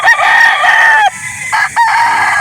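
A rooster at a chicken sale in Calauan, Laguna crows loudly and close, a long sustained call broken by short pauses and a final rising cry, with faint background murmur.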